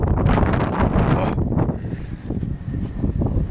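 Strong gusting wind during a heavy snow and ice storm in Korea in December, roaring and buffeting loudly against the microphone in uneven surges, with no talking.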